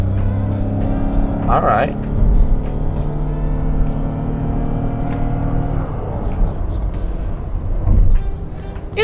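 A 2021 Toyota Yaris Cross hybrid accelerates up a highway on-ramp, its engine and road noise building steadily from inside the cabin while someone speaks briefly over it.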